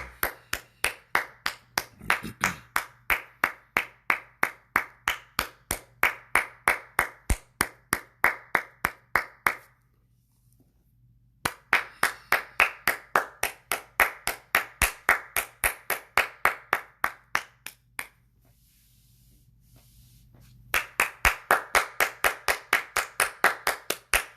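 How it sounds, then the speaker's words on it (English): Hand clapping in steady, even rhythm, close and loud, in three long runs separated by brief pauses, with no talking over it. "I'm gonna go ahead and give it a clap"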